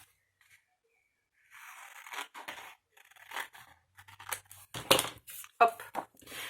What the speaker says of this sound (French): il faut couper entre les deux